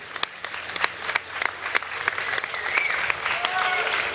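Live in-person crowd applause at a Worlds 2011 esports event at DreamHack in Sweden: dense, sustained clapping with sharp individual claps, rising in intensity, with a voice speaking over it.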